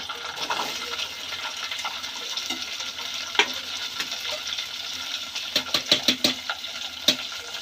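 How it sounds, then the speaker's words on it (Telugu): Okra pieces frying in a pan for a restaurant-style perugu charu, a steady sizzle with scattered sharp clicks and pops growing denser toward the end, close and alone with no talk. "నేను బెండకాయ ముక్కలు వేస్తున్నానండి."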